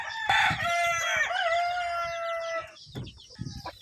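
A rooster crows one long, loud, close call among backyard chickens, followed by short clucks and scratchy bird noises, with no talking.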